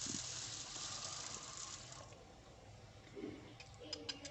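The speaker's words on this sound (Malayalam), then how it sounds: "അതിനുള്ള പരിപ്പ് ഒരു 2-3 പ്രാവശ്യം ഒന്ന് നന്നായിട്ടൊന്ന് കഴുകിയെടുക്കണം" Lentils for onion sambar being washed in water, a running, splashing pour at first that fades into softer swishing and a few light knocks of the vessel.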